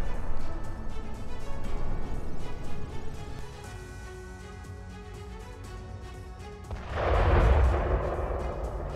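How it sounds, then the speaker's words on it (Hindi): A heavy explosion in Gaza during the Israel–Hamas war: distant rumbling and crackling gunfire-like bursts, then a loud low boom swells near the end, with no talk. "देखिए गाजा में भीषण विस्फोट और धुएं का गुबार नजर आ रहा है।"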